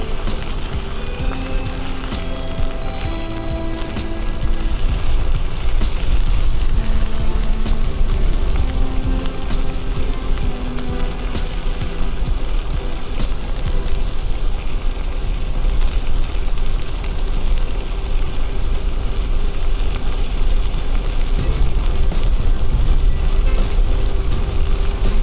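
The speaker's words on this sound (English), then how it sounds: "That's a strong wind." Strong wind roars steadily across an overgrown rail trail, a loud continuous broadband rush with gusting swells throughout, no voices.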